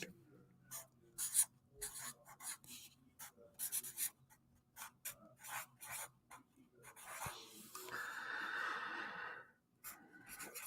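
A pen scratches across paper in quick strokes and taps, then a longer steady scribbling stretch, with some talking mixed in around it.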